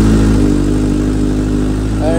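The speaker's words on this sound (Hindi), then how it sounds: "फिलहाल के लिए तो कोल्ड स्टार्ट करता हूँ उसे जल्दी से." Royal Enfield motorcycle being cold started before riding to a Scram Jam event, its steady low engine idle thumping loud and close throughout with no talk over it.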